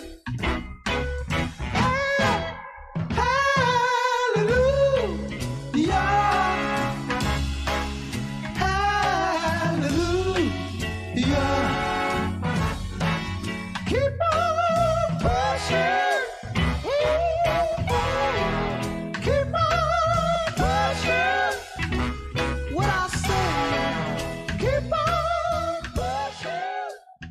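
A soulful 1960s soul song plays, with the group's voices singing in harmony over a mellow band, steady and full throughout.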